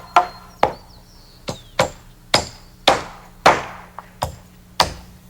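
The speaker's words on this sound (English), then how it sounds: "Joe nails his end to a ceiling joist, and the same on the other side." A hammer nailing a rafter to a ceiling joist in roof framing, heard as nine sharp, loud wooden blows at an uneven pace with quick ringing decays and no talk.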